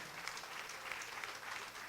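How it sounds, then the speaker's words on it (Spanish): A church congregation applauds during a sermon, a faint, distant patter of clapping that holds steady for a couple of seconds without speech. "¿Cuánto le dan un aplauso al Señor?"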